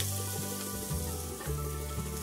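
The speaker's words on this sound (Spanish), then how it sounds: "Piqué un chile jalapeño y lo voy a echar a freír." Chopped jalapeño pepper fries in a pan for Mexican Sonora-style hot dogs, making a continuous soft sizzle over a low steady hum, with no voices.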